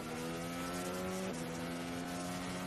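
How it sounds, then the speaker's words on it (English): A Formula 1 car engine is heard onboard from the cockpit through the airbox at the 2017 Singapore Grand Prix, a loud, steady, high-revving drone with a brief gear-shift step partway through. "Completely different sound when you're in the cockpit to when you're in the grandstands listening to them."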